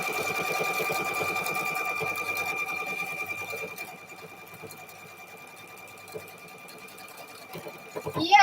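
A sewing machine stitches a quilt square made from jelly-roll fabric strips with a fast, steady mechanical whir that eases off partway through, close up and with no talk over it.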